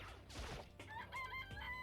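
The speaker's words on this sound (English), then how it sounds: "It's a chicken." A video-game chicken from Danganronpa lets out a short burst of clucks followed by a drawn-out crow, sharp and tonal against a quiet background, all within about two seconds.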